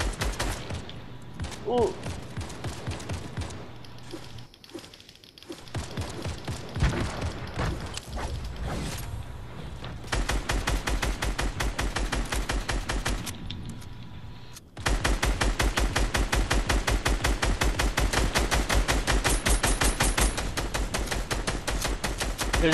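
Rapid automatic gunfire in the Fortnite battle royale game, long sustained bursts of shots with mechanical weapon clatter, loud and close, while players briefly react in the background.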